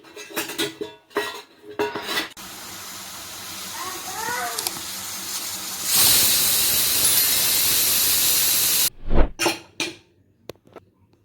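A pressure cooker of country chicken curry on the stove lets off a long loud steam whistle, a steady hiss lasting a few seconds, with pot and utensil clatter and a voice before and after.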